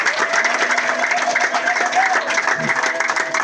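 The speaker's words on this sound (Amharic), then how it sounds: "አጨብጭቡ።" A crowd claps in steady rhythm along with singing, the handclaps loud and close, layered over a sustained melodic voice.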